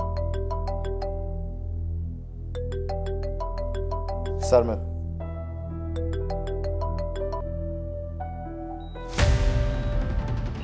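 A melodic mobile phone ringtone repeats its tune clearly, with a brief spoken word and a short burst of rustling noise near the end.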